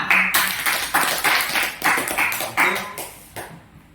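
Group clapping during a classroom game session, several sharp bursts of claps in an uneven rhythm, each fading quickly, close and moderately loud before tapering off at the end.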